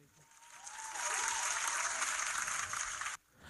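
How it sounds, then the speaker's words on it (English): An audience applauds Nicki Minaj with sustained hand claps that swell in and hold at an even, fairly dense level before stopping suddenly. "Let me get some hand claps for Nicki."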